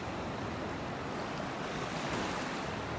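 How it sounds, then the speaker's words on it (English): Waves breaking on a distant sandbar off a beach in North Naples, Florida, giving a steady, broad wash of surf with light wind across the microphone and no voices. "The waves breaking out there on the sandbar."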